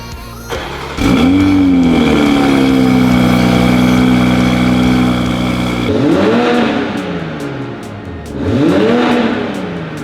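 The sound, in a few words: sports car engine starting and revving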